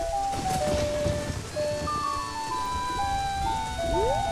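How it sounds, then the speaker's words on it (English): Rain falls steadily in Clock Town in the game Majora's Mask, a continuous soft hiss under gentle tonal game music, moderately loud and without speech. "it's raining in Clock Town on the second day"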